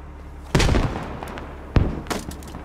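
Grenade blasts in the military shooter Squad, two heavy booming explosions about a second apart, each a sudden loud burst with a rumbling tail, followed by a smaller rattle of further impacts.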